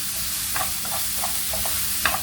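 Coriander leaves are stirred into a paneer filling in a hot pan, giving a soft continuous sizzle with several light spatula scrapes and taps, one sharper near the end; no talking.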